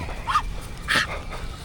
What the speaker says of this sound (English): There's the dogs acting dramatic, like they're choking.